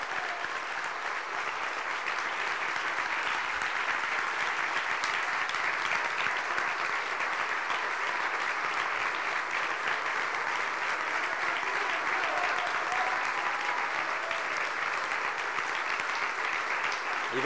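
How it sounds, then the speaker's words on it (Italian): A large political rally audience gives a standing ovation, steady dense applause filling the hall, loud and continuous without a break. "I vostri applausi, la vostra standing ovation dimostra che avete capito bene."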